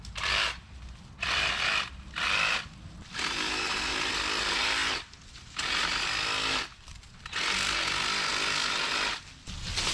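Power saw trimming a path through brush, the motor revving in repeated bursts of several seconds separated by short idle drops, fairly close and loud with no talking.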